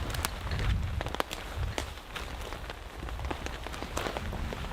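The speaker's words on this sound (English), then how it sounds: "This is the third week straight of solid rain." Rain falls steadily in a soaking wet forest, water dripping everywhere in scattered close taps and patters over a soft continuous hiss, faint and alone.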